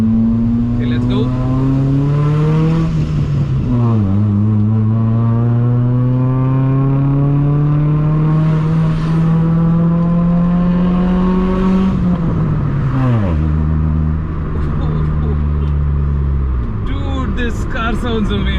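A modified old Hyundai sedan engine revving and pulling hard through gears, loud droning tones rising and dropping at shifts, with a few pops near the end; someone talks over it.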